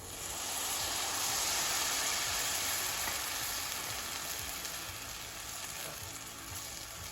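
White wine sizzles and hisses in a hot pan of mushroom pasta, a steady, fairly loud frying sound that swells slightly and then eases off, with no talking.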